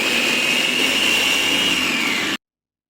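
Loud, steady whir of an electric blender pureeing ingredients with black pepper and a little salt, running continuously at close range before cutting off abruptly into silence.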